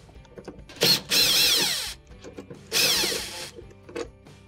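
Two short bursts of a cordless power driver whir close by as Phillips screws come out of a clothes dryer's door strike, with light clicks and handling noise around them.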